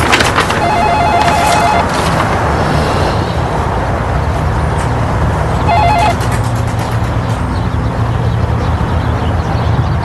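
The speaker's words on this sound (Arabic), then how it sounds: "التليفون" A telephone rings in two electronic trilling bursts separated by a pause, loud over a continuous rumble of background traffic noise.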